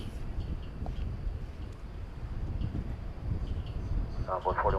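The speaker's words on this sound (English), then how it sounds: "As we're getting some gusty winds." Gusty wind buffets the microphone at DFW Airport during plane spotting, a steady low rumble that swells toward the end, with faint distant aircraft noise and a brief radio-like tone near the close.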